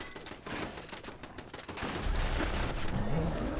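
Sustained full-auto gunfire from a modded weapon in the Fallout 4 video game, a dense rattling barrage that swells louder partway through with heavy low booms, no talking over it.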